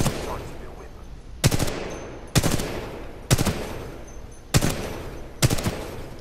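Weapon fire in the Titanfall 2 video game: five loud, sharp bursts spaced roughly a second apart, each ringing out briefly over a low, steady background hum.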